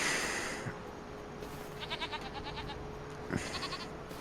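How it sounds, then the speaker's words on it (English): Several short goat bleats from a farming simulation game come in quick wavering bursts over a steady low hum, with a second brief bleat near the end; fairly quiet and distant. "Let's have a quick look at the goats."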